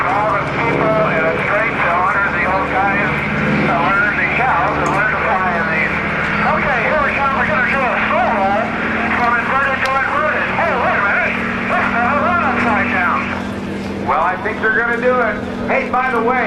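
A propeller plane with Air Force markings at the 2010 NAS Oceana airshow drones steadily in the background while someone talks over it throughout.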